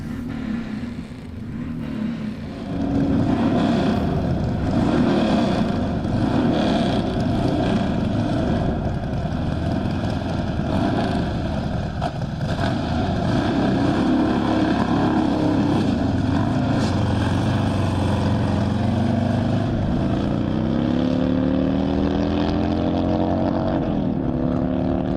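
Race cars run on the dirt surface of El Mirage dry lake at an SCTA event, a steady loud engine roar holding throughout with a rising, shifting engine tone near the end, with no talking.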